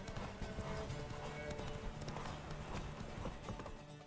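Roach the horse gallops in the video game The Witcher III, a quick rhythmic run of hoofbeats with a brief whinny, fairly close and steady throughout with light voice in the background.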